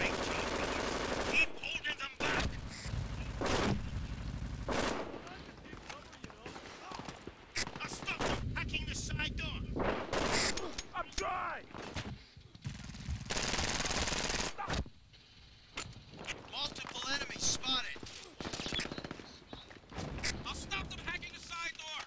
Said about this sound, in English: who's the asshole using a shotgun right now?